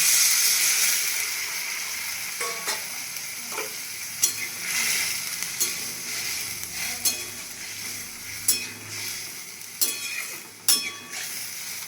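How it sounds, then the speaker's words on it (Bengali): Mango dal sizzles steadily in a frying pan, a broad hiss with scattered sharp scrapes as water is poured in and the mixture is stirred, close and continuous with no talking. "এরপর এখানে আমি দিয়ে দেবো জল।"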